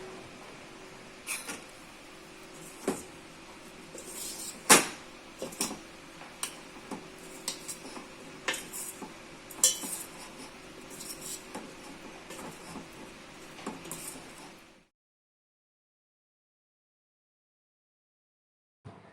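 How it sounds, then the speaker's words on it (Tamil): Steady clicking and tapping of a spoon against a bowl while mixing cauliflower pakoda batter, irregular knocks over a soft scraping bed, stopping abruptly into silence. "ஸ்பூன் வச்சு நல்லா மிக்ஸ் பண்ணி எடுத்துக்கிறேன்"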